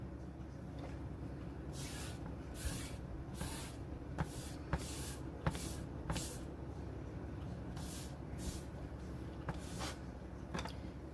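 A spray bottle lays a wash over a craft project, giving a series of short, soft hissing bursts spaced a second or so apart against a quiet room.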